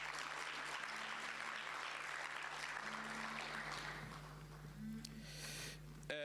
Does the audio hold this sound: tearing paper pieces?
no